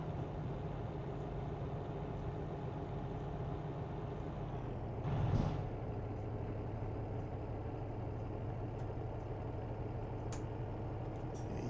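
A truck's engine retarder braking in American Truck Simulator: a steady, loud, droning engine rumble holds throughout, with a brief hissing burst midway and no talking.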